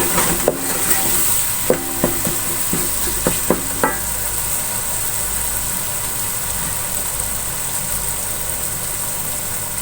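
Ground spices, including red chili, fry in a pan. A few sharp clinks of stirring come early, then a steady sizzle carries on alone at a fairly loud level.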